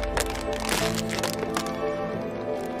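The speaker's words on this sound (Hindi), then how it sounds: "इस ढक्कन को ऐसे दबा के इसके अंदर डाल दीजिए।" A plastic bottle cap is pressed down into a water bottle, giving a series of sharp cracks and crinkling plastic snaps heard close up and alone.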